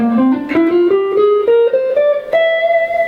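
A melodic scale in the Locrian natural 2 mode, played over a minor 7 flat 5 chord, rises step by step as distinct notes with a rich harmonic tone, loud and clear with no talking.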